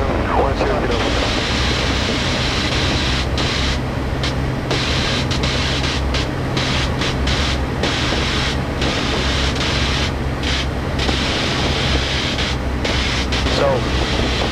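Steady, loud drone of a Cessna 152's engine in flight, a constant roar with wind rush filling the whole stretch and no clear talk over it.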